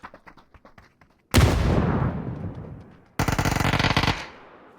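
Two separate bursts of sustained automatic gunfire in a PUBG match, each loud and dense with rapid cracks, following a few faint softer taps; the first burst fades away before a second sharp volley starts.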